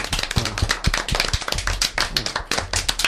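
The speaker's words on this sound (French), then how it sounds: "On va les applaudir comme on fait dans les spectacles" Children applaud together during a children's radio show, in the way audiences do at performances. A small group claps unevenly and close by, in scattered bursts of sharp claps for about three seconds.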